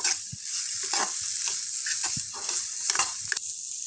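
Boiled cassava being stirred with masala in a pan: repeated scraping and clacking spoon strokes over a light sizzle, close and moderately loud.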